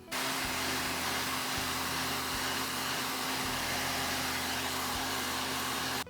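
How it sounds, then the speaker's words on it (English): Heat gun blowing over fresh base-coat paint on a DIY poor man's fiberglass project, a loud continuous whooshing whine with a steady motor hum that runs unbroken for several seconds and cuts off at the end. "now we'll use the heat gun again to go around and speed dry the paint"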